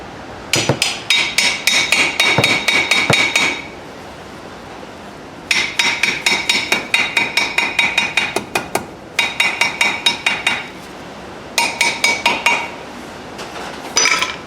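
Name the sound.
tapping brake pads toward rotor on Chrysler 200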